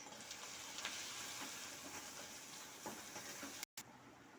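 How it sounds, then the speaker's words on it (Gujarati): Onions frying in a pan with turmeric, coriander-cumin powder and red chili powder being mixed in: a soft continuous sizzling hiss with light stirring scrapes, fairly faint and with no talking. "આપણે તેની અંદર હળદર, ધાણા જીરું પાવડર અને લાલ મરચું પાવડર એડ કરીશું અને તેને સરખી રીતે મિક્સ કરી લઈશું"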